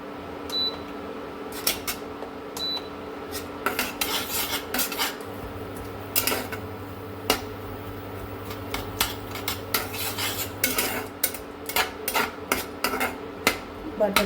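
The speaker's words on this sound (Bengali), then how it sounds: "এটা মেল্ট হতে হতে দিয়ে দিচ্ছি এখানে পেঁয়াজটা" Onion goes into melting butter in a pan and is stirred, giving repeated metallic scrapes and taps of a utensil against the pan at an irregular pace, close and clear, with no voices.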